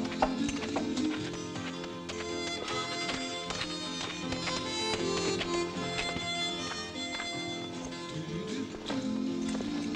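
Horse hooves clip-clop in a steady rhythmic tapping, set in a Western scene, under a busy mix of music and other noise.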